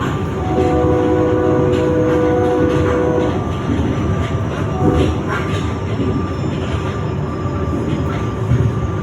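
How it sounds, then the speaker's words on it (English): A commuter train halts at the Philmont stop as its doors close, a loud steady rumble of the railcar with a tonal chime and a muffled outside announcement in the background throughout. "You'll also hear the announcement that's outside the train right as the doors close."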